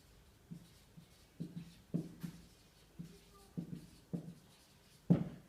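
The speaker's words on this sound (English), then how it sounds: "actually I'll write it on the left over there" Pen or marker writing on a board during a physics lesson: a series of soft, separate scratchy strokes in short bursts, close and quiet, with pauses between them.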